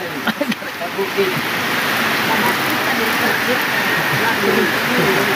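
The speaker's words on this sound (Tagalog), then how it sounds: "Basang-basa sa ulan." Heavy rain pours in a dense, steady hiss, loud and close, with voices talking underneath the downpour.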